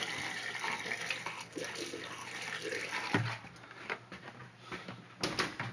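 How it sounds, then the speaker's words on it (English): A cup of water is poured down a camper's drain trap during winterizing, giving a continuous close-up gurgle and splash that runs for several seconds with small surges. "So we're going to put a cup of water in there"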